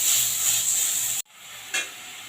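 Onion frying in a pan with ginger garlic paste gives a steady close sizzle that cuts off abruptly, then resumes more quietly with a short burst as the paste is stirred in.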